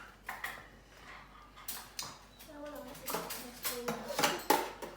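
Two small metal spoons clink against dishes and cutlery while being fetched in a home kitchen, a series of light, bright taps and rattles of rising loudness, close by, with no talking.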